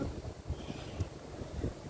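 A breeze flows in through an open window, buffeting the microphone with a soft, continuous low rumble and gentle gusts; no one speaks.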